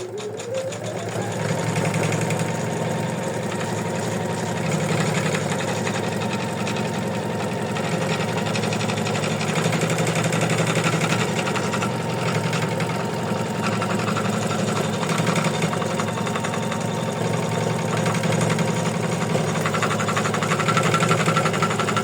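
An embroidery machine stitching an in-the-hoop heart ornament, running with a steady, rapid mechanical whir and hum that continues unbroken at a constant loud level throughout.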